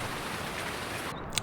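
Steady rain hisses evenly across a Farming Simulator 19 farm on the Shamrock Valley map, a dense continuous wash of drops with no voices, ending in a faint brief tick.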